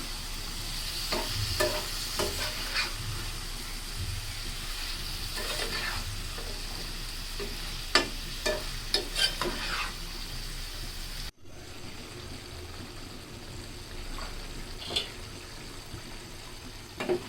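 A spoon stirs a Bangladeshi curry of dried fish and snake gourd in a frying pan, making wet scraping and soft sizzling with scattered clinks, then a brief cut to quieter stirring.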